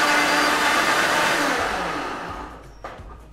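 A kitchen mixer grinder purees beetroot and tomato for a shorba, a loud steady whir that winds down over the last second before a brief clatter, with no talk.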